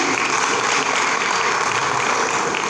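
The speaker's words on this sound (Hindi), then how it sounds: "एक बार जोरदार तालियां हो जाए" Audience applause at a Holi Milan celebration held in a temple, a steady, dense wash of clapping from many people that stays loud and even from start to finish.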